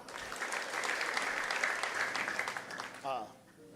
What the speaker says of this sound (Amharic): አጨብጭቡና ቁጭ በሉ።